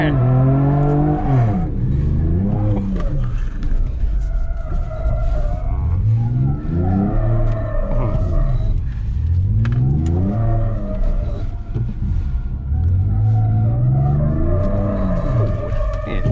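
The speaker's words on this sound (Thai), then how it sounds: "เห็นนะฟังเสียงท่อไป" A Ford Ranger Raptor petrol V6 pickup exhaust roars loud and close on a small test track, rising in repeated surges as the engine revs through gear changes, pitch climbing and falling.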